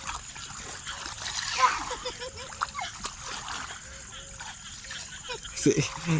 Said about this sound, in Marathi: कुत्रा आहे ना त्याला एवढं पाण्यात खेळायला आवडत आहे